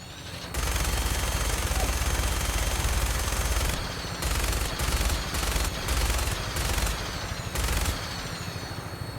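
Bursts of automatic gunfire in the video game Fallout 4 come in a long sustained volley, then in several shorter rapid bursts separated by brief pauses, loud and close.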